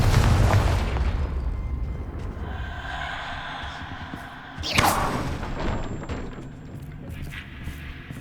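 A Confringo spell explosion in Hogwarts Legacy, starting with a heavy low rumbling boom that decays, then a sharp fiery crackle and whoosh midway, loud against game ambience with no talking.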